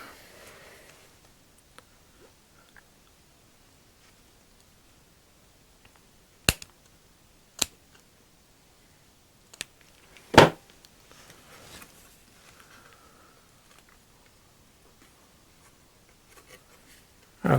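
Scissors snip through a thick cotton swab at a workbench, a few sharp isolated cuts spaced seconds apart, close and crisp against near silence.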